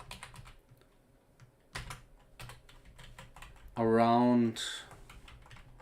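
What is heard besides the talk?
typing on a computer keyboard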